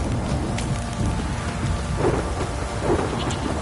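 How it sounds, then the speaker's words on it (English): Heavy rain and rumbling thunder in The Witcher 3, a steady loud downpour with deep low rolls of thunder underneath and no voices. "This downpour's a bastard"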